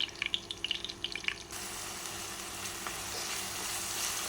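Mustard and fenugreek seeds hitting hot oil in a pan: a few light pops and crackles, then a steady close sizzle that holds to the end, with no talk.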